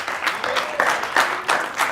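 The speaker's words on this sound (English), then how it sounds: "Give me a huge round of applause," A short burst of crowd applause at a Street Fighter V esports match, dense clapping swelling in waves, fairly close.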